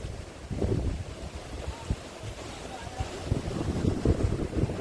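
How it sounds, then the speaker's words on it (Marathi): Sea waves roar against the shore below a small hill by the coast, a low rolling surge heard in swelling bursts through wind rumble on the microphone, fairly faint and without speech. "समुद्राची गाज ऐकायला पाहिजे"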